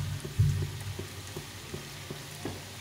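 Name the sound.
potato pakora frying in oil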